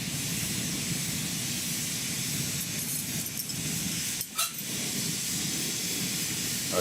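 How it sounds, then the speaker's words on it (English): A torch flame hisses with a steady broad roar, holding constant apart from a brief dip and flutter near the end. "let me turn this torch down noise-wise a little"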